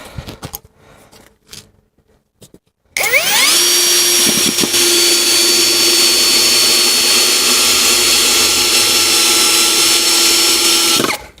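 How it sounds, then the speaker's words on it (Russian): KAMOLEE cordless drill driving wood screws, with quiet handling clicks, then a motor whine that spins up sharply and holds a loud steady drone for about eight seconds before stopping. "То есть саморезы идут, как вы видите"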